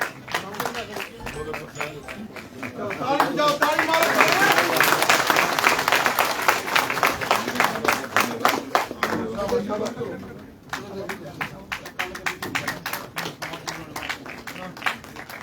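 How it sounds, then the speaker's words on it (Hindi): At a political gathering in Jammu and Kashmir, a large crowd breaks into loud, sustained clapping that swells and then thins into scattered claps, with voices and chatter mixed in. "जोरदार ताली का स्वागत करो"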